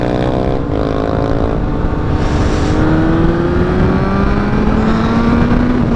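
A motorcycle fitted with an aftermarket exhaust pipe revs hard and close, its engine note climbing steadily in pitch over several seconds, loud and continuous with no talking.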